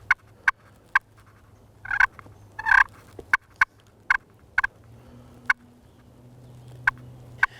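Two wild turkeys in a swamp gobble repeatedly, loud and fairly close. Sharp, separate gobbles arrive about every half second, with a brief overlapping burst in the middle, above a low steady hum of swamp background.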